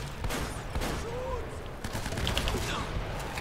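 Sniper gunfire in the video game Uncharted: Drake's Fortune crackles as repeated sharp shots and bursts over a dense game soundscape, with someone talking briefly.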